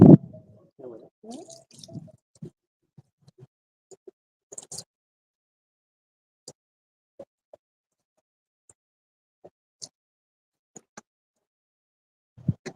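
Water squeezed into hair during a medieval-style washing at Pennsic gives scattered close drips and soft squishes, a few wet splats early on, then sparse isolated drops separated by near silence.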